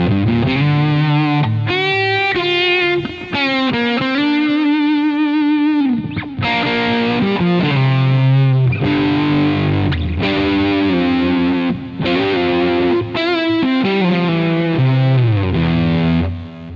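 A Fender Stratocaster played through an AmpliTube Marshall amp simulation from the Joe Satriani collection, cranked to full distortion, rings out in thick, sustained chords and melodic runs. The playing is loud and continuous, with no voices.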